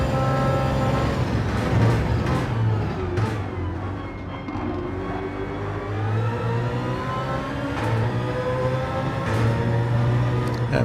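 Onboard racing car on a track pulling hard through the gears, a loud steady engine drone with rising pitch sweeps and brief shifts, close and continuous with no talk.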